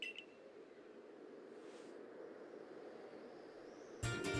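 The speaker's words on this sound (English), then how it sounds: "Your Arc phone is beeping." A short electronic beep from the Arc phone in Pokémon Legends: Arceus sounds briefly near the start, then a burst of game sound arrives at the end over a quiet background hum.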